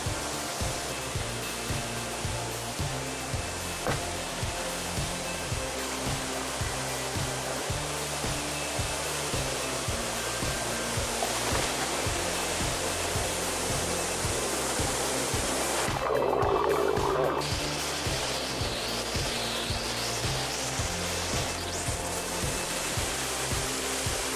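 A small waterfall pours into a pool in Papenoo Valley, Tahiti, giving a constant broad rushing roar, with a low rhythmic pulsing throb running underneath throughout.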